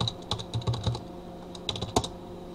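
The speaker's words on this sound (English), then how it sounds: "if I click on authorize and type in my IP address" An IP address is typed on a computer keyboard: close, crisp key clicks in quick uneven bursts with short pauses between them.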